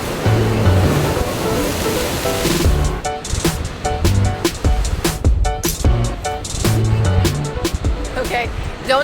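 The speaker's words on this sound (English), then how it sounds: "The wind is pretty strong though, and the waves are huge." Large surf rolling in under strong wind on the Casablanca shoreline, a continuous loud roar of breaking waves with gusty rumble, overlaid by people talking nearby.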